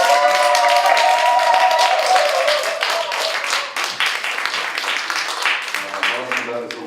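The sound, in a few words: audience applauding to welcome the seminar speaker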